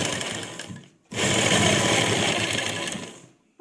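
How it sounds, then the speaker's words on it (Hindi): A sewing machine stitches underground piping along a dupatta edge, running loud and close in two continuous bursts with a short pause between them. "और इस तरह से इस पर सिलाई लगाते जाएंगे।"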